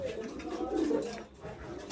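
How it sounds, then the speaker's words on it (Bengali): Pigeons at a market pigeon shop coo softly nearby, a low rolling call rising and fading against a busy background with some murmur. "আজকে আমি চলে আসছি বড় বাজার কবুতরের দোকানে ভিজিট করার জন্য"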